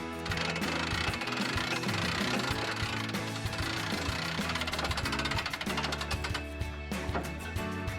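The roof of a pop up camper is raised, with a rapid, continuous mechanical rattling and clattering, close and loud, with dense knocking throughout.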